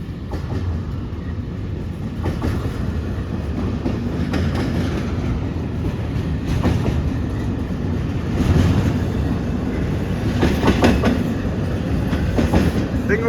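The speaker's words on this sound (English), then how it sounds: "I think it was two ES44DC 6Ms on the head end." A northbound freight train headed by two ES44DC locomotives rolls past, giving a steady loud rumble with rhythmic clickety-clack of wagon wheels over rail joints and no talking.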